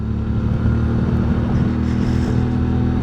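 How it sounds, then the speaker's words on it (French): A motorcycle cruises along smooth, well-surfaced small roads in the Auvergne, its engine a steady, continuous drone with wind rush, close and loud throughout with no talking. "C'est un vrai plaisir de rouler ici à moto."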